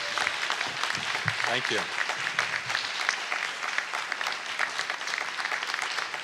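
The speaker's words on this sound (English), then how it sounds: "let's give him a round of applause" Applause from an audience at a community foundation gathering, steady broadband clapping throughout with a person briefly speaking over it.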